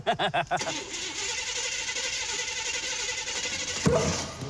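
A car cranks over in a few rhythmic bursts, then catches and roars into a loud, steady engine run fitted with a ship turbocharger, with a sudden surge near the end.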